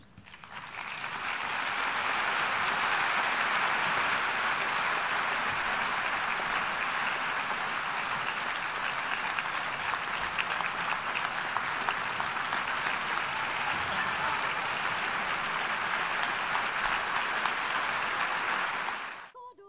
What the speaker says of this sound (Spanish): Un mensaje que saludaron con un largo aplauso